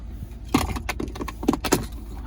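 Keys on the key fob of a 2019 Ford F-150 King Ranch pickup jangle and clink up close, a few sharp metallic rattles over about two seconds with no talk.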